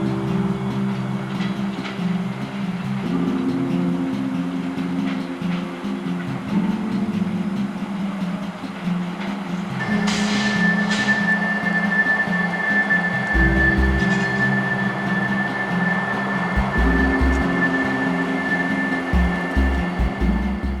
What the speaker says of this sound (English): As this train came on by